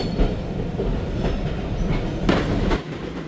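The Thal Express passenger train running on rails during a cab ride, a loud continuous rumble with rhythmic clickety-clack of wheels over joints and brief sharper squeals.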